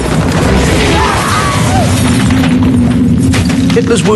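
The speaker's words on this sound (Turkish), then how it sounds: "Top mermileri ıslık çalıyor. Her yerde bombalar patlıyor" Artillery shells and bombs exploding in a wartime barrage, a continuous loud rumble of booms and crashes with layered blasts and debris throughout.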